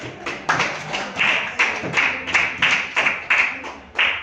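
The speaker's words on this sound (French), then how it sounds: "Est-ce qu'on ne peut pas applaudir pour cette évolution?" A small audience at a talk on women's low political participation claps in uneven, separate bursts about every half second, fairly close and loud, with no voices over it.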